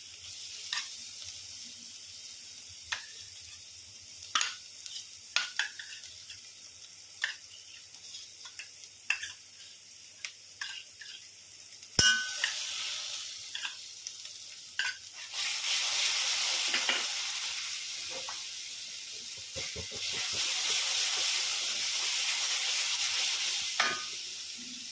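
Yogurt-mixed spices hit a hot pan for a fusion bhaji: first scattered clicks of stirring over a quiet pan, then a loud, steady sizzle and hiss that swells and carries on with stirring through to the end.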